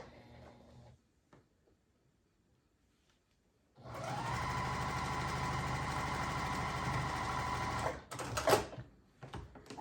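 Sewing machine stitching a quilt block, starting after a quiet pause with a steady, fast mechanical whir for several seconds, close and clear, then stopping with a few handling clunks.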